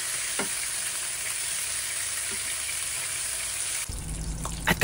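Pork chops sizzle and fry steadily in hot oil in a pan, a constant close crackling hiss with faint stirring clatter near the end.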